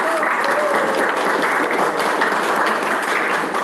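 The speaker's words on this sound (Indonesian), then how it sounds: "Kasih aplaus sekali lagi untuk saudara-saudara." Students in a classroom applaud together, a steady clapping throughout at moderate loudness with no talk over it.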